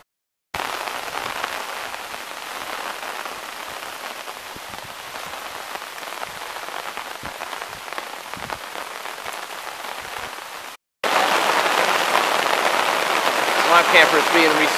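Steady rain patters hard on a camp tarp in a stormy outdoor camp, a dense, continuous close hiss that briefly cuts out and returns louder, with no talking.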